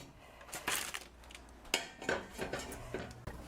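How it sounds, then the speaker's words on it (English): Beef bones dropped into a pot for homemade bone broth, a few hollow clunks and clinks against the metal, fairly quiet with short gaps between each knock. "So the bones into the pot."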